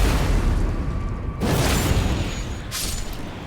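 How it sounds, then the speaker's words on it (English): An explosion in the video game Elden Ring, with deep booming rumbles and two sharp bursts that flare up and decay, loud and close with no talk. "shut your face with your stupid explosion."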